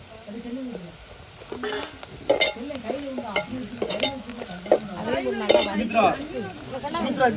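Onions with chili powder frying in a pan for a dried fish curry, a steady sizzle with repeated scraping stir strokes, close and fairly loud, with a voice talking faintly beneath.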